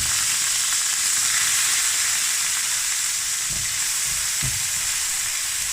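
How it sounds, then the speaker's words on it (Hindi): Finely chopped medium onion frying in a pan over crackled cumin seeds, a steady close sizzle throughout with a few soft stirring knocks near the end and no voices. "और प्याज को भी हल्का सा फ्राई करेंगे।"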